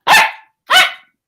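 A dog barks twice, close and loud, the two sharp barks about half a second apart with silence between them.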